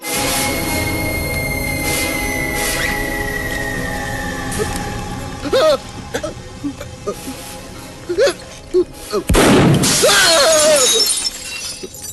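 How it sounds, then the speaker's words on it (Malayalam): A loud burst of glass shattering from a gunshot cuts through a tense scene, with scattered fragments and vocal sounds around it. "വെടികൊണ്ട് ഗ്ലാസ് എല്ലാം പൊട്ടിയല്ലോ"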